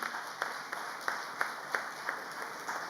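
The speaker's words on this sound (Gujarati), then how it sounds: "તાળીઓથી આપણે એમને વધાવીશું." A crowd applauds to honour a donor at an Ahir community mass-wedding ceremony in Surat, with fairly faint, steady clapping and sharper claps landing in a regular beat about three times a second over a constant background hum.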